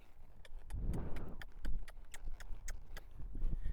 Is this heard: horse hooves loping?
yes